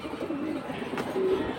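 Paired pigeons of fancy Bangladeshi breeds such as silver pankhi and military coo in a few low, close murmuring phrases, alone with no talk.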